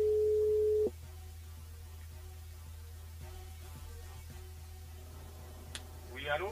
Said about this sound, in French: On appelle Dolly du côté de Tampon